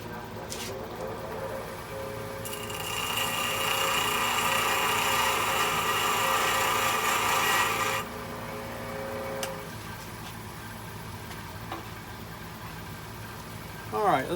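Tool edge held against a bench grinder for sharpening, a steady broad whine and rasp building for several seconds in a workshop, then cutting off, with faint motor hum before and after.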